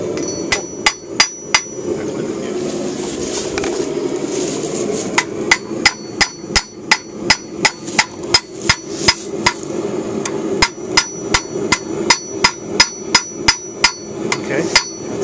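A hammer forges and flattens a knife blade, striking sharp, ringing metallic blows in quick rhythmic bursts separated by short pauses, loud and close, with no talk.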